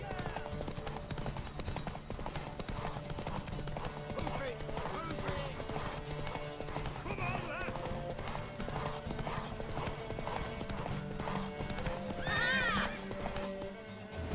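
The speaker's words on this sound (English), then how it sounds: "Does our horse have the stamina to get to the tower?" Steady rhythmic hoofbeats of a galloping horse in The Witcher 3: Wild Hunt run throughout, with a horse whinnying near the end over layered game music and effects.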